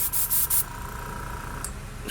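Several quick hissing bursts of a spray aimed at the back of a hand or a latex glove, close and sharp, followed by a faint lingering hiss.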